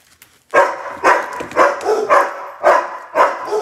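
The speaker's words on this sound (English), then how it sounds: "So we've got a crew of three dogs waiting to welcome Brandon home." A crew of three dogs bark repeatedly in a home, waiting to greet someone arriving, with about six loud, close barks coming in a steady, rhythmic series and no talking.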